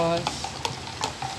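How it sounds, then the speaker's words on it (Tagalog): Brief scraping and tapping of a spoon stirring sugar and Bitracin together in a small container, a few quick strokes close up. "i-mix yung dalawa"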